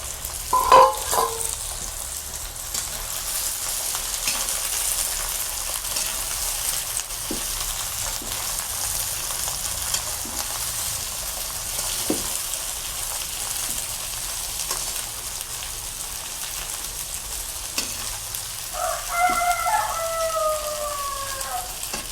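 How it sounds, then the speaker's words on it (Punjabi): Small bitter gourd (karela) pieces frying alone in a pan give a steady, soft sizzle throughout, with a few faint clicks and a rooster crowing in the distance near the end. "ਪਹਿਲਾਂ ਕਰੇਲੇ ਕੱਲੇ ਫਰਾਈ ਕਰਾਂਗੇ ਆਪਾਂ"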